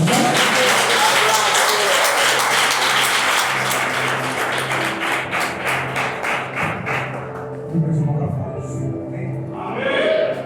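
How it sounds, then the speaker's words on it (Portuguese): A congregation applauds during a Communion service at a Monte do Renovo church: loud, dense clapping with rhythmic thumps that fades after several seconds into a voice speaking. "Aplauda o Senhor."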